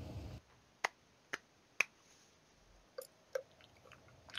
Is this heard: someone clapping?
yes